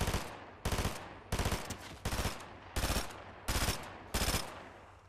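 Rapid bursts of submachine gun fire in a battle royale style video game, seven loud clipped volleys spaced about every half second to second apart, each a dense crackle of shots, with no talking over them.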